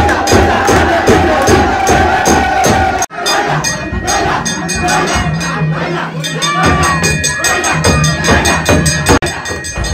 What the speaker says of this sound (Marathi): हे बघा जल्लोष बघा पोरांचा